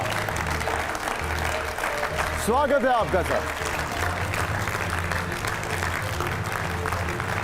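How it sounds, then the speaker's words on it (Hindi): Studio audience applause greets the Governor of Kerala, Arif Mohammad Khan, arriving on a TV9 Delhi NCR panel show; steady broadband clapping runs throughout, with a host's welcoming speech over it partway through. "जोरदार तालियां हमारे साथ सर"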